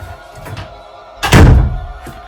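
A door slams shut with a heavy thud, a single loud impact followed by a short decaying rumble in an otherwise quiet room.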